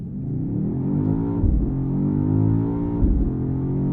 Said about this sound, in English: From here for launch, I just hold my foot on the brake, pin the throttle.